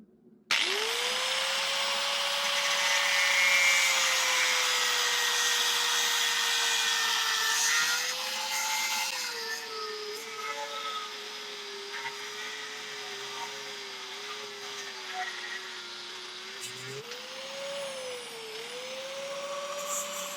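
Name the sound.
cutting hot damascus steel held in a vise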